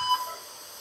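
Hospital ward ambience: a faint, steady hiss and hum, with one short electronic beep near the start that then fades into the background.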